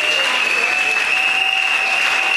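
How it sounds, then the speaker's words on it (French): A church congregation claps and cheers loudly for the Lord Jesus, a dense, steady wash of applause with a sustained high tone running through it. "Est-ce qu'on peut acclamer très fort le Seigneur Jésus?"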